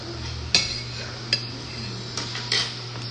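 Bulgogi samgyupsal meat turned over in a pan on a steady, humming cooktop; a few sharp metallic clanks of the utensil against the pan ring out at uneven intervals, with no talking.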